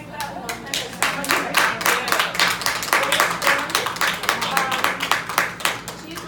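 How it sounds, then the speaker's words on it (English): Conference audience clapping for a speaker, a dense burst of rhythmic hand claps from a group of people sustained for several seconds, fairly close and loud with voices mixed in. "we're going to give her a hand clap"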